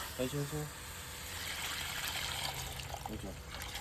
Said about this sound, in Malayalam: വെള്ളം ഒഴിക്കാൻ പോവാണ്.